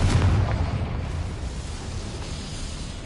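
A Confringo fire spell detonates in Hogwarts Legacy, a loud booming blast that quickly fades into a low rumbling tail with no voices.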